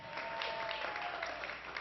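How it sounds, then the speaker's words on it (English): Sustained applause from a jazz festival audience for the pianist, a steady dense wash of clapping that stays even and fairly loud throughout, with a faint held tone running underneath. "Please give him a round of applause."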